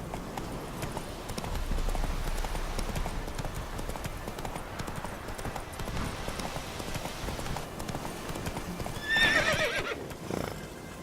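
Hooves of the horse Roach clip-clop steadily at a gallop through most of the stretch in The Witcher 3, with a whinny bursting out near the end over game ambience.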